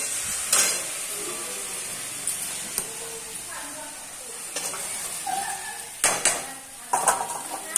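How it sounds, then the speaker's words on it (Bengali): Dry-spiced potatoes being mashed and stirred in a pan, with utensil scrapes and clinks against the metal and a steady background sizzle, sharper knocks near the end. "আজকে আলুটা শুকনো শুকনো করে আলু মাখা করছি"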